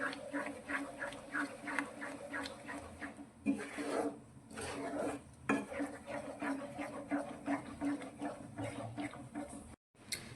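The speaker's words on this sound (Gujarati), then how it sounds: "ધીમા ગેસની ફ્લેમ પર હવે આપણે તેને સારી રીતે મિક્સ કરીશું" A spoon scrapes and rubs through a thick besan and milk sweet mixture in a kadai over a low flame, a soft repeated scraping rhythm, fairly quiet, with a brief pause near the end.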